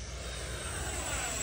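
An FMS F22 radio-controlled model jet flies overhead with a steady, moderately distant whooshing jet roar that stays even throughout, and no talking.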